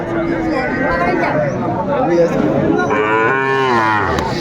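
Young bull calves low repeatedly at a cattle market, their drawn-out moos close and loud over a steady background of crowd chatter and people talking.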